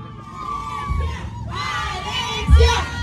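A large crowd of fans at a meet-up event shouting and cheering loudly in a sustained roar, with high children's voices whooping and yelling over the din, close and continuous throughout.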